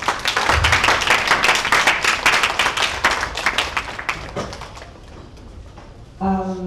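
Children at a literary festival author session clap together in loud, dense applause that fades over several seconds, followed by a brief tonal sound at the end.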